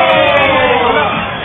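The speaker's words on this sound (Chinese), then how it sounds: "掌声" A television studio audience applauds and cheers, a dense, loud wash of clapping and crowd noise that stays steady through the short stretch, with a few brief higher tones near the start.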